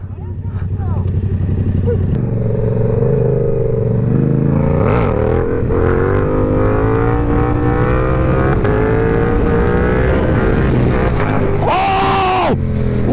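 Yamaha R7 and MT-07 motorcycles accelerating on London streets, engines droning and climbing in pitch through the gears, with a sharp rising rev near the end, all under loud, excited voices shouting throughout.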